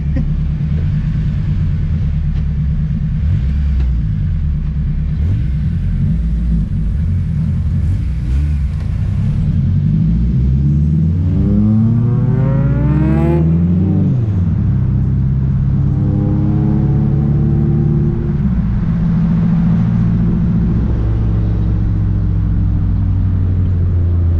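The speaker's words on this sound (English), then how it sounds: "the TSX sounds really good with a 3-inch catback" A 2004 Acura TSX with a cat-free 3-inch Vibrant catback exhaust idles with a deep exhaust rumble, then revs hard several times, the tone rising and falling before settling back to a throaty idle.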